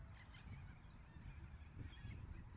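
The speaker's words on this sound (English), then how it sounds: "Those birds are so peaceful." Geese honking outdoors, a loose, repeated chorus of calls at moderate distance over steady low ambient rumble, with no one talking.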